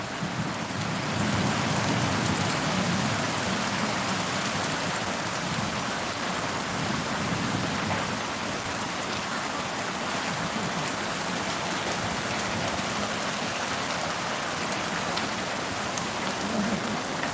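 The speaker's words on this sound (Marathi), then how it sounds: "बारिश और भी फटाफट फटाफट मतलब ज़्यादा चालू हो रही है" Heavy rain pours down steadily, a dense continuous hiss of drops on surfaces with no talking.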